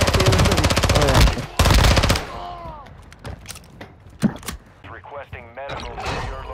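Rapid automatic gunfire in a video game, a loud, fast rattling burst that cuts off briefly and resumes, followed by scattered single thuds and distant shots, with people talking over it.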